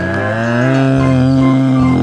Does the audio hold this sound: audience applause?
no